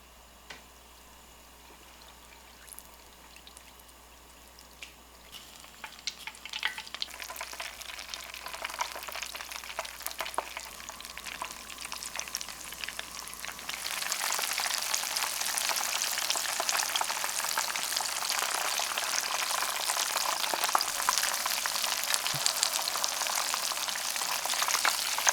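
Batter-coated oysters deep-frying in hot oil, a soft bubbling sizzle that grows denser and louder midway through and then holds steady at close range, with no talking.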